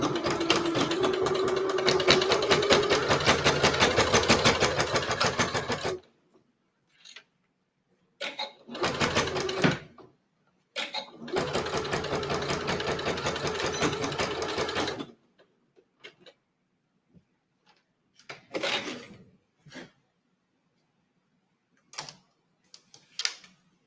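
Domestic sewing machine top stitching Italian leather with a narrow presser foot, running in a steady close buzz for several seconds, then in shorter bursts with quiet pauses between them.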